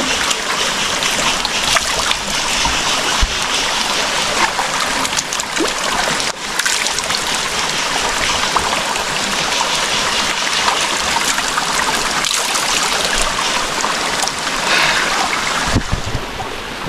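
Handapan Ella waterfall stream in Sri Lanka's Sinharaja Forest Reserve: a steady, loud, close rush of flowing, splashing water that stays continuous throughout.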